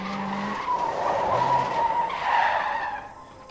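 Tires squeal sharply as a car swerves hard on a road beside a drop, a loud rising skid with a brief lower screech, fading out near the end.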